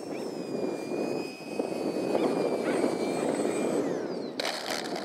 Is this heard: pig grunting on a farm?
no